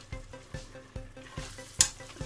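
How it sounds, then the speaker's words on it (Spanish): Fish broth is stirred into a pan of palometa in tomato sauce, with a spoon knocking the pan in a regular rhythm of soft clacks over a gentle simmering sizzle and one sharper scrape near the end. "Y a continuación el vaso de caldo de pescado. Vamos a remover bien."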